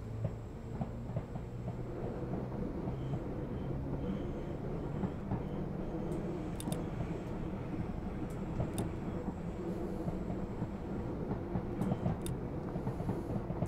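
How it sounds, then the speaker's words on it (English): Simulated train running in Train Simulator 2021, a Pacer unit on Japan's Wakayama and Sakurai Line, giving a steady, loud low rumble with faint clicking throughout. "Does sound like a tube train."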